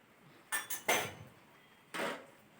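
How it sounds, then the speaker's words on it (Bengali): Dishes and utensils clank during washing, a few sharp close knocks and clinks separated by quiet pauses. "বাসনগুলোও পরিষ্কার করে নিই, কী করা যাবে, এই বাসন পরিষ্কার করতে হবে"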